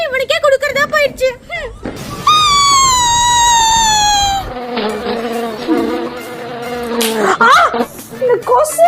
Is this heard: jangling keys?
no